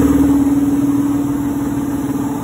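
Brush motor of a WIN hair clipper running steadily with a fault inside the base, a continuous close mechanical hum with faint rattling throughout.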